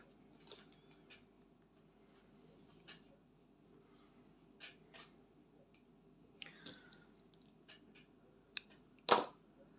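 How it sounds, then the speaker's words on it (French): Scissors make a single sharp snip through embroidery thread for a cross-stitch project, arriving near the end after faint, sparse rustles and ticks in a very quiet room. "Alors, notre fil, on va le couper en deux."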